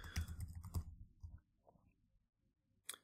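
Faint computer keyboard typing at a desk: a short cluster of soft keystrokes, then near silence, ending with a single sharp click.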